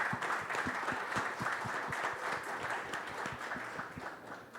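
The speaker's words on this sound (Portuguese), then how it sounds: "Uma salva de palmas." An audience at an innovation ecosystems event applauds, producing a steady wash of many hands clapping, moderately distant and fairly quiet throughout.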